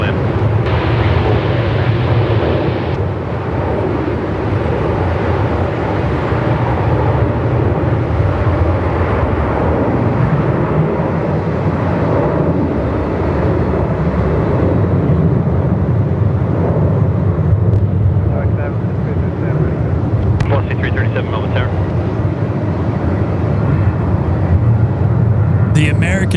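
Sri Lankan Airbus A330-300 departing for Colombo from Melbourne Airport in strong winds, giving a steady, loud roar of jet engines mixed with heavy wind noise across the whole stretch, and a voice talking over it.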